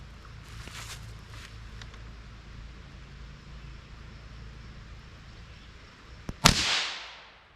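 .22 LR rifle with an 18-inch barrel firing a single CCI Mini Mag hollow point round, one sharp loud crack near the end of the clip with a short decaying tail, after a low background hum.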